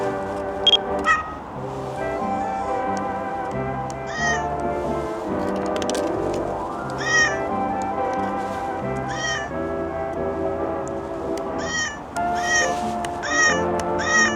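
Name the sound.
digital compact camera button sounds set to cat meows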